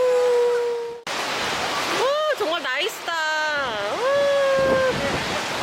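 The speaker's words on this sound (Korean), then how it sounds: "와 파도가 장난 아니야." Ocean waves crash at a seaside glamping resort in Bali on a very windy day, a constant loud roar of surf and wind running beneath excited talking.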